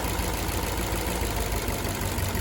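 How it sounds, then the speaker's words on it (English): A Nissan or Infiniti engine idling roughly with an ignition coil disconnected, a steady mid-low drone with uneven knocking pulses from cylinder misfires. "The engine is running worse."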